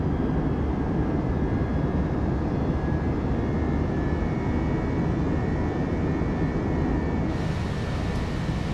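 An Airbus A319 jet engine spooling up in a flight simulator game, a steady loud low roar with a thin rising whine above it, continuous and unbroken throughout, with no talking.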